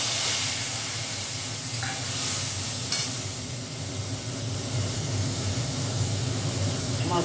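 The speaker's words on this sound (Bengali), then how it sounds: "এবার একটু কালো জিরে ফোড়ন দিচ্ছি" Nigella seeds tempering in hot oil, a steady close sizzle and hiss with faint spattering throughout, and a voice heard faintly underneath.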